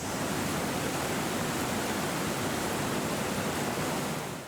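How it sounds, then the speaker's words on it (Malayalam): Water gushing out through the reverse sluice of Mangalam Dam, opened by about 10 cm, makes a steady, loud, broadband roar that stays constant throughout with no voices. "രാവിലെ 8 മണിയോടെയാണ് റിവേഴ്സ് ലൂയിസ് വഴി 10 സെന്റിമീറ്റർ അളവിൽ വെള്ളം തുറന്നുവിട്ടത്"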